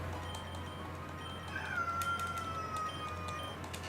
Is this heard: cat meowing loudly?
yes